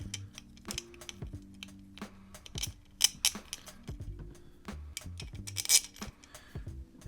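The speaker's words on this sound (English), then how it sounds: "So these all just kind of push right through like that" M3 screws pushed through a 5-inch carbon drone frame, heard as a series of small close clicks, ticks and light plastic-and-metal taps in quick irregular succession.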